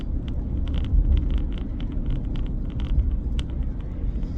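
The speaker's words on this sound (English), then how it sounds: "I'm driving to work." Steady low road rumble of a car driving, heard from inside the cabin, with a constant engine and tire drone and faint scattered ticks above it, no talking.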